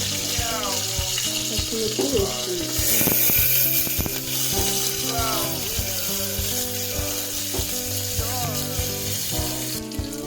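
Onions and green chillies sizzle steadily in a hot pan while a gongura dish with tripe is being cooked, a continuous crackling fry running beneath background music throughout.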